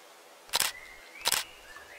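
Two sharp single-lens reflex camera shutter clicks, about three-quarters of a second apart, close and crisp against a quiet background while animals are being photographed on a walk.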